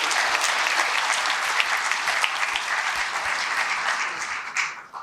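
Sustained applause from an audience at a University of Louisville Juneteenth event honoring the mayor, steady dense clapping throughout that thins slightly near the end.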